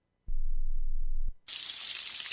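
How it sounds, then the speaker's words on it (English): Bacon sizzles on a grill. After a low humming tone fades, a dense, steady hiss sets in abruptly and carries on evenly, fairly loud and alone. "That is the sound of bacon sizzling"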